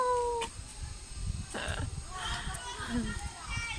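A cat meows a few times near and fairly softly, mixed in with someone speaking and some background noise outdoors in Italy.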